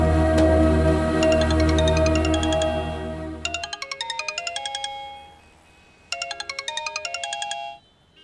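A phone rings during an outgoing call, playing a bright, repeating electronic ringtone melody in two bursts, first over a low musical background and then alone in near quiet.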